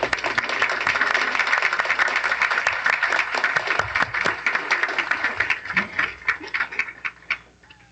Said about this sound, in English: We hope you'll join us in a final round of applause for all these incredible students.